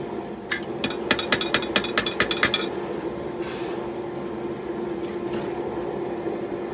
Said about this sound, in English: to do the artwork I have in mind for the hammer, I got a special set of punches I made specifically for doing this